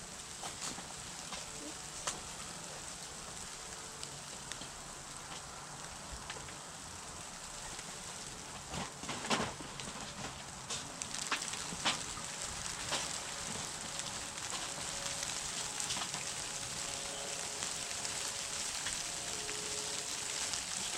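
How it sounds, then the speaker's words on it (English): Freezing rain mixed with snow falls outside, a steady soft patter and crackle with scattered sharper drops, fairly faint and continuous. "Kind of changing between snow and freezing rain, back and forth."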